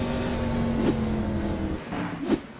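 A car engine roars past on the Sonoma racetrack, passing overhead near the top of a hill, a continuous loud drone that swells twice as it goes by.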